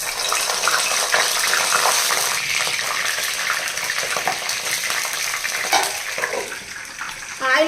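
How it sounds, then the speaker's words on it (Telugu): Eggplant pieces spatter and crackle in hot oil in a pan, a loud, dense close sizzle that runs the whole time and settles slightly toward the end. "బాగా చిందుతుందండి అందుకని మూత పెట్టేశాను"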